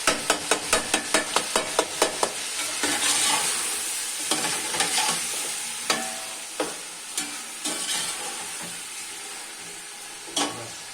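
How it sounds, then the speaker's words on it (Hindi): Spinach frying with meat and masala in a pot, a utensil scraping and knocking in quick repeated strokes over a steady sizzle, then slower, scattered stirs. "अब इसमें हम पालक छोड़ देंगे।"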